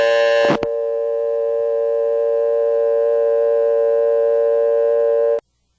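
Telephone ring tone on an old step-by-step GTE exchange in Williamston, North Carolina, following an intercept recording: a brief clattering burst, then one steady, loud tone that holds for several seconds and stops abruptly.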